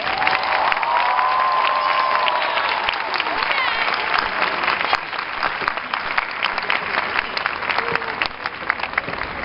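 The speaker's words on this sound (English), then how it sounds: "Please, graduates, give our support system a much-deserved round of applause." A graduation audience gives a sustained round of applause for the graduates' support system, dense clapping with some crowd cheering running steadily throughout.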